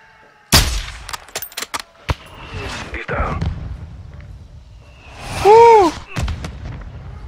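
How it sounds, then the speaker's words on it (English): Mortar fire in the video game Modern Warfare 2, loud booming blasts and a cluster of sharp reports with a descending whistle, player voices talking over the battle. "Damn, the mortars is crazy."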